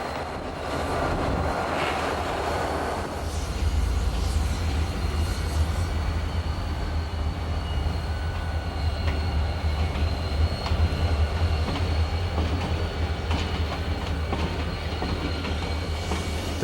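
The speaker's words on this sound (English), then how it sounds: "the pair of locomotives are uncoupled from their train" Pan Am and NBS locomotive pair at a fairgrounds siding in Lewiston on a summer night, heavy diesel idling rumble and rolling railcar noise, steady and continuous, with faint clanks and no talk.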